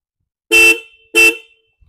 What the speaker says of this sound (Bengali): এটা কিন্তু একটা বেশ শার্প হর্ন।